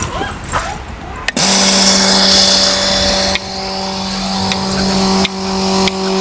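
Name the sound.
milking machine running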